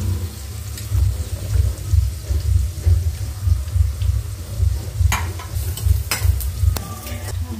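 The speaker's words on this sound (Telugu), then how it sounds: "కొద్దిగా ఆయిల్ వేసి కొబ్బరి ముక్కలను కూడా కొద్దిగా ఫ్రై చేసుకుందాం." Coconut pieces fry in a little oil for cabbage chutney, giving a steady close sizzle with rhythmic stirring scrapes and a few sharp clinks near the end.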